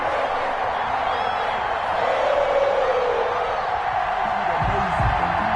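A stadium crowd at an EA Sports NFL game between the Cleveland Browns and Cincinnati Bengals keeps up a steady roar of cheering and whooping, with announcer talk over it.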